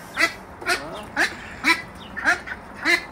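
Ducks quack in short nasal bursts, about six evenly spaced calls, close and fairly loud on a farm during bath time.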